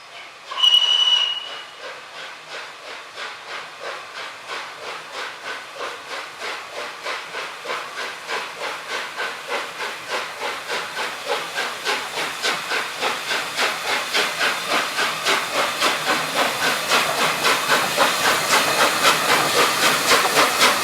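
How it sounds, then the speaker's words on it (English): Flying Scotsman, an LNER Pacific steam locomotive, double heading with a Black 5, passes with rhythmic chuffing exhausts that steadily build in loudness as the train draws nearer, after a short whistle at the start. "The next day would once again see the Pacific double heading with the Black 5."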